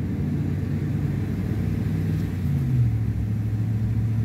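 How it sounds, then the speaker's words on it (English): A car passes on a wide mountain road in Davis Mountains State Park, a steady low rumble of engine and tires that swells slightly as it draws nearer, with no talk. "Oh, here comes a vehicle."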